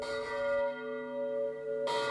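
A church bell rings in a tower, with a loud clear strike followed by a long sustained humming ring as it decays, then another strike fairly close by.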